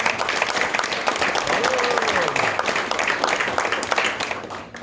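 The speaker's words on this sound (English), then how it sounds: "So let's give them a round of applause." A crowd at a high school signing day event applauds steadily with dense, continuous clapping, while a voice speaks faintly underneath.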